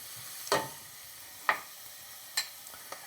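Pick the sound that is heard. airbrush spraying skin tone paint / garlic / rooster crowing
garlic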